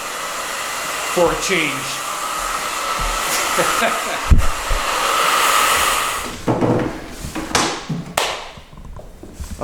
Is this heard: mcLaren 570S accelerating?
no